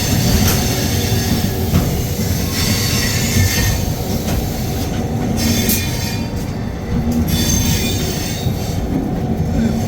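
The 12310 Rajdhani Express pulls out on its run from Delhi toward Patna, a loud steady rumble of rail cars with metallic wheel squeal and rattling heard close up from on board, no talk.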